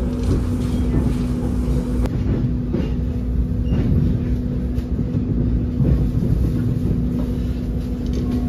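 Harina passenger train rolling into the Bandung station yard, a steady loud rumble of wheels on rails with faint clickety-clack throughout, no voices.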